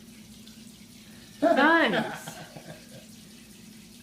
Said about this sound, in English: And then we're just going to run this under the water.